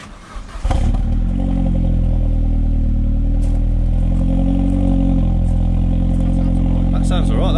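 A Ford Focus ST225 fitted with a decat exhaust cranks briefly, then fires and settles into a loud, steady idle with a deep droning rumble, close by, with a voice briefly audible near the end.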